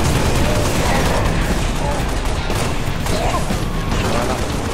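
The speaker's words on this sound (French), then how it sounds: "Tiens, il a envoyé sa grenade, la bonne grenade." A Halo Reach battle produces a steady roar of gunfire and explosive rumble, loud and unbroken, with a voice talking over the fighting.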